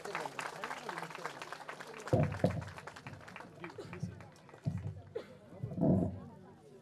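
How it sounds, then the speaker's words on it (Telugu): A church congregation in Ganyapeta, Srikakulam, applauds during a church blessing, with a dense patter of clapping at the start that thins out while people talk over it. "అందరము గట్టిగా చప్పట్లు కొడదాం."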